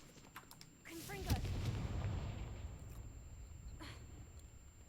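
A Confringo blasting spell in the video game Hogwarts Legacy, a sharp loud blast that rolls into a rumbling, crackling tail over several seconds, with a brief voice just before it.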